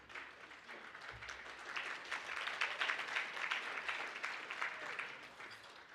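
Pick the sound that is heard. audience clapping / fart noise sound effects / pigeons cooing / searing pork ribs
audience clapping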